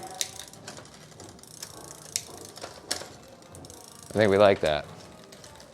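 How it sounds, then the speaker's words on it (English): A bicycle rear derailleur is cycled through the gears during a basic adjustment, giving a quiet ticking freewheel with light clicks and then two loud ratcheting bursts near the end, while a person speaks briefly. "So we're just cycling through the gears now, making sure we're not getting any rubbing and making sure it's not falling off."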